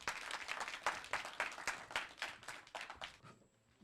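Audience applause at a big-data training course's final presentation event, as the first presenting team is called to the stage: a few seconds of steady, dense clapping from a crowd that tapers off at the end.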